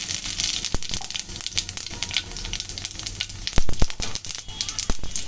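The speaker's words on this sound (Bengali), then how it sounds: "ফোড়নে দিয়ে দিচ্ছি শুকনো লঙ্কা, তেজপাতা, দিচ্ছি গোটা জিরা" Dried red chillies, bay leaves and whole cumin seeds crackle and sizzle steadily in hot oil, tempering a pan for Bengali aloo dum, with sharp pops breaking through the dense frying hiss.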